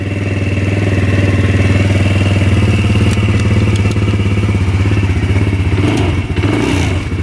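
A 2-stroke dirt bike engine runs steadily up close, a loud continuous buzzing drone with rhythmic low pulsing, then a clunk and clatter near the end as it is put into gear.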